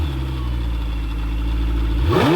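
A Lamborghini Huracan EVO Spyder V10 engine rumbles steadily at close range, then revs up sharply near the end, the pitch climbing as it roars.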